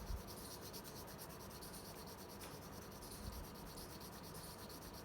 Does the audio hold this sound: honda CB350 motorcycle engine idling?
no